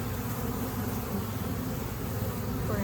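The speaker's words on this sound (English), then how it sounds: "there's tons of activity in this hive. They're bringing in a ton of pollen." A busy honeybee hive buzzes steadily and densely, a close, continuous drone of many bees at the entrance during a spring inspection, with no talking.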